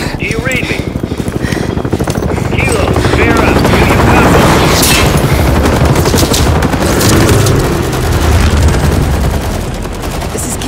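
Ambush in Call of Duty: Modern Warfare 3, with loud, continuous gunfire and booming explosions over a dense battle din, while a radio-style voice talks over the chaos.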